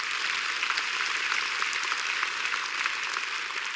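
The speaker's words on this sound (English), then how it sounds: "Won't you give the Lord a big hand clap?" A church congregation claps together in sustained, dense applause that carries on steadily and loudly for the whole stretch, with no voices rising above it.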